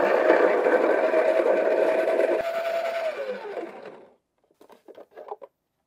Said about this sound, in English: Our coffee is grinding and we have maintained our Virtuoso or our Encore coffee grinder.